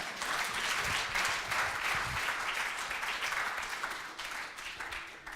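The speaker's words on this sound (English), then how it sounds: "Give him a round of applause." Steady applause from an audience at an education summit session, a dense wash of many hands clapping that holds evenly for several seconds before easing slightly toward the end.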